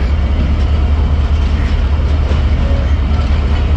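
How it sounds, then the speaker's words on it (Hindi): Train pulling out of Bale railway station after a two-minute stop, on a private Badar Express run between Lahore and Faisalabad: a steady, loud low rumble with rolling wheel noise throughout, and no talk. "सिर्फ दो मिनट के स्टॉप के बाद ट्रेन रवाना हो रही है"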